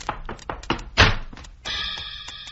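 A gun butt striking a head, staged as a radio drama effect, lands as one heavy thunk amid lighter knocks, followed by a sustained ringing tone.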